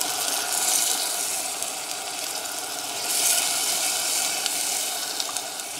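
Tomato sauce going into a pot of spicy bulgur soup makes a steady, close hiss and sizzle with watery bubbling that rises and falls slightly.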